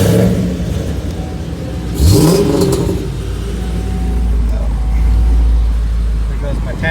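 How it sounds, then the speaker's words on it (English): A Chevrolet Camaro ZL1 starts from cold with a loud low rumble, then a sweeping rev near the two-second mark, and settles into a steady, heavy idle. People talk nearby underneath the engine. "A little cold start for you guys."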